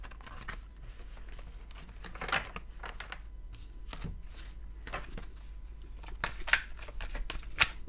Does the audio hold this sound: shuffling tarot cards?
yes